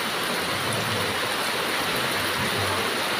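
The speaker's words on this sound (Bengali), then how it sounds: "আজকে আবার কি বৃষ্টি হচ্ছে" Heavy rain pours down during a storm, a dense, loud, continuous roar of falling water and spatter close by, with no voices over it.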